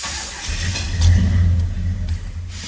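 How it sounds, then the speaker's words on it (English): A 1972 Oldsmobile Cutlass engine on a cold start, revving up loudly and close with a deep rumbling surge that swells mid-clip, then settles to a rough, strong idle. "Got to give her some gas. This is a cold start."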